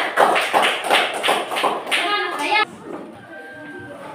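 Children in a classroom clap together for group 1 in a loud, uneven burst of claps lasting about two and a half seconds, then stop abruptly, leaving low room noise and a faint voice.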